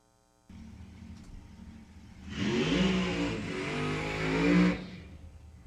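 A drag racing car's engine idles, then revs hard for about two seconds with a rising, growling tone before dropping back, loud and close with no voices.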